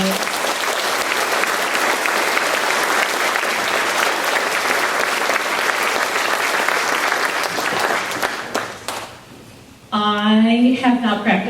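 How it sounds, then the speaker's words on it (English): A middle school spring concert audience applauds its 8th grade musicians with sustained, full clapping that fades out near the end. A voice then starts speaking. "Let's give our 8th graders a round of applause."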